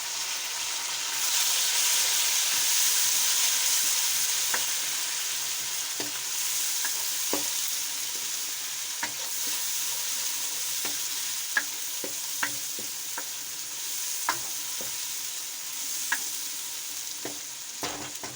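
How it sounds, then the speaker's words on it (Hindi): Chopped tomatoes added to browned garlic and cumin sizzle and fry steadily in a pan, with a continuous hiss punctuated by scattered clicks and light stirring sounds throughout. "अब हम इसमें 3 कटे हुए टमाटर डालेंगे।"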